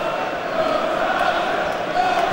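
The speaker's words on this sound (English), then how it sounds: "And the crowd were on their feet again then." A football crowd roars at a Liverpool v Arsenal FA Cup third round match, a steady, loud wash of massed voices rising slightly near the end.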